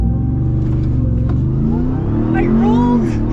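A 2021 Ram TRX pickup launching from 3,500 RPM, loud low engine rumble climbing into a rising rev as it accelerates hard, heard from inside the cab with a voice talking over it.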